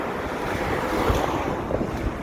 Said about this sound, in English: the crosswind is quite large. It's very blustery on